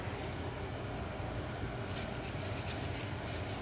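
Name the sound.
rag wiping dirt off a brake part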